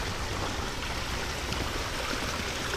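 Water in a stream runs in a steady, full rushing wash, close and constant for the whole stretch, with no other sounds or voices.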